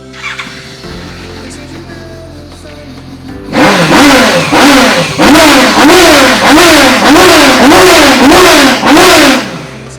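A sport motorcycle engine, from a Suzuki GSX-S750, Honda CBR500R, CBR250RR or Kawasaki Ninja 300, idles briefly, then revs loudly in a series of rhythmic throttle blips, rising and falling in pitch, close by.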